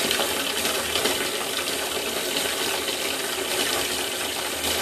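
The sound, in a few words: hot water running from tap for foot soak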